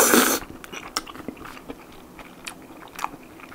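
Someone eating a ramen pasta made with Shin Ramyun in a creamy toowoomba style, with a loud rustle at the start followed by scattered close, soft chewing and slurping bites.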